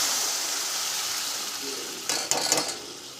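Boiled cucumber pieces drop into hot tempering with asafoetida, and a bright sizzling burst flares up over a soft background hiss before settling.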